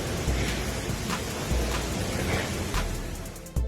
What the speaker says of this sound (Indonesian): Hujan badai dan angin kencang merusak kota.